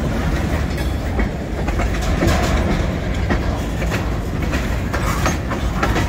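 A CSX train rolls along the tracks nearby, loud continuous rumble with rhythmic clickety-clack of wheels over rail joints and faint wheel squeal.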